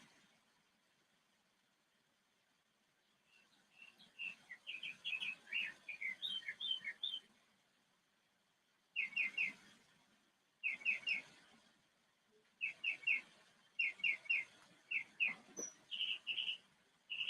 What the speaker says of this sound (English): And the birds are chirping today